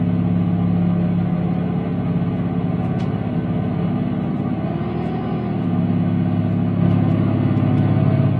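A car engine runs steadily and close by with a constant droning hum, holding at an even level for about eight seconds.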